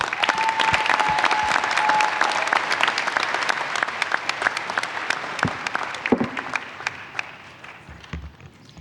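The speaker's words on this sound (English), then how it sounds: "So I'd like to give a round of applause to you and all your accomplishments." Audience applause fills a graduate commencement ceremony, a dense steady wash of many hands clapping that holds for several seconds, then gradually thins and fades out toward the end.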